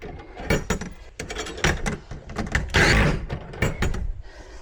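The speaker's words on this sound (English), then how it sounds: "Put the roller in there, then you hook it onto the track." A garage door panel's roller is fitted and hooked into its metal track during a panel swap, making close, busy clatters, knocks and scraping rolls in quick succession.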